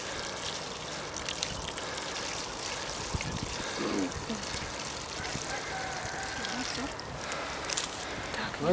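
Water poured steadily into a sampling container during water sampling in Kazokha, a continuous trickling stream running throughout under faint background noise.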